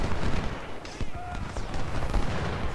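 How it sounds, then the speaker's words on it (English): Artillery booms and scattered rifle fire from a Civil War battle in the strategy game Ultimate General: Civil War, a dense crackle of repeated shots and thuds at moderate volume. "enemy fire is opening up on our flank"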